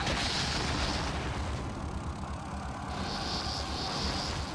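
Gunfire in Resident Evil 4 aimed at a flying enemy, dense booming shots and blasts packed together over a loud, continuous game soundscape.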